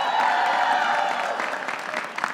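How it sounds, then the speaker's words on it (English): Applause and some cheering from a crowd at a general election kick-off rally, loud and dense at first, then thinning into scattered claps over a couple of seconds, with no talk. "So give her a big round of applause."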